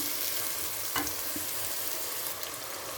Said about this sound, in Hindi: इस पॉइंट पर माशाल्लाह से जो मसाला है वो अच्छे से भून लिया है मैंने